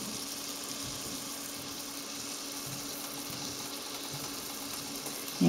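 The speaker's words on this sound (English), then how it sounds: "we're just going to actually sear the meat on both sides" A beef strip steak sears in a hot pan, giving a faint, steady, even sizzle throughout, with a small bump right at the end.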